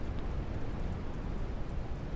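Steady rain falls at nighttime in the airport game Airport Renovator, a soft continuous hiss with a low rumble beneath and no talking.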